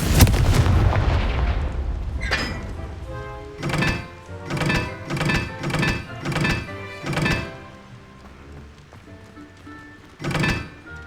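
Confringo fire spell blasts in the wizarding game Hogwarts Legacy, a series of heavy booming thuds in a quick irregular rhythm, then a pause and one more blast near the end, each decaying with a rumbling tail.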